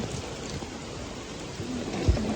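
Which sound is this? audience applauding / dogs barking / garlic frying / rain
rain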